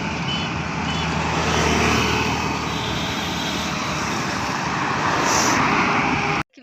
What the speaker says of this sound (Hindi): देखिए केते गाड़ी मोटर सब कुछ जाउची